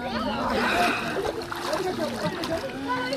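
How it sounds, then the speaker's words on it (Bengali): People bathe and splash in the Ganges river, with nearby water sloshing and splattering steadily under voices talking. "আমরা এখন চলে এসেছি দেখো গঙ্গায় আর স্নান করছি"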